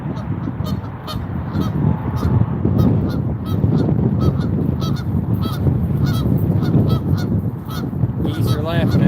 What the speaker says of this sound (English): Geese are laughing at me.